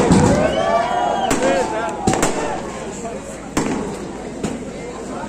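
Firecrackers going off at an election rally, sharp cracks and pops punctuating a steady crowd roar and amplified speech.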